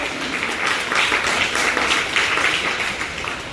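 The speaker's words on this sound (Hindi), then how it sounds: "पहले तो हम तालियां बजाएंगे हमारे एंकर महात्मा निर्मित जी और बहन ऐश्वर्या जी के लिए" Audience clapping for the two anchors at a youth workshop, a dense, even patter of many hands that holds steady throughout.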